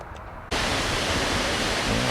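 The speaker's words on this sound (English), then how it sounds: "here we're at another waterfall" Loud, steady roar of a waterfall in Iceland on a dreary day, the broadband rush cutting in abruptly and holding close and constant.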